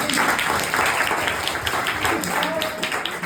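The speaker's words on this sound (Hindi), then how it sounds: "तो एक बार मैम के लिए तालियां बजा दें।" A school gathering at a food distribution drive claps for a teacher, a dense, even patter of many hands that carries on steadily, with faint voices mixed in.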